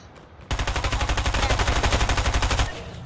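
Pistol gunfire in Fortnite rings out as a rapid, evenly spaced string of loud shots that starts abruptly, runs for about two seconds, then tails off.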